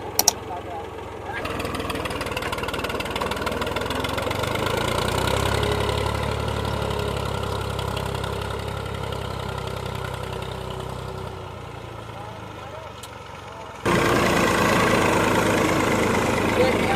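A farm tractor idles steadily in a field while boys sit on it to add weight for forming sweet potato ridges; the low engine drone runs throughout, with voices talking over it.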